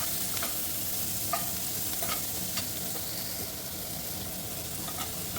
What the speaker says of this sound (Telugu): అదే నూనెలో మనం కట్ చేసుకున్నటువంటి ఉల్లిపాయలు, తర్వాత పచ్చిమిర్చి, కొంచెం కరివేపాకు కూడా యాడ్ చేద్దాం.